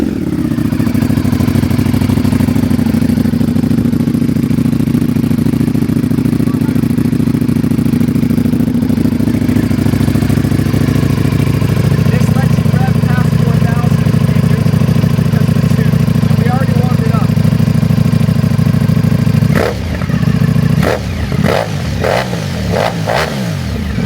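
A 2025 Ducati Panigale V4 fitted with a loud Arrow titanium slip-on exhaust, idling loudly and steadily up close, then several sharp, high-pitched revs in quick succession near the end, with people talking over the engine.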